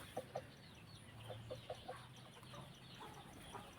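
Several Thai white-feathered chickens of a prized breed cluck softly at close range, giving short paired clucks and scattered calls over a faint steady background hum.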